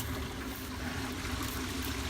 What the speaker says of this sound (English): you pull the black tank first. So there goes a lot of poopy water.